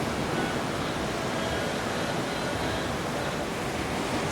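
Ocean surf on a beach in Ghana, a steady, full wash of breaking waves with no gaps, loud and close, with no voices.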